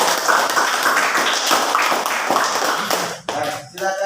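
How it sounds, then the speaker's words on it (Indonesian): Classmates in a classroom clap together for a student group, a dense burst of hand claps lasting a few seconds before it breaks off, with voices briefly heard at the end. "tepuk tangan untuk kelompok"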